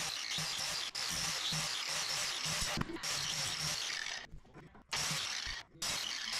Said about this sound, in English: I'd try to use the angle grinder to remove that 3/16 and see if we can make it work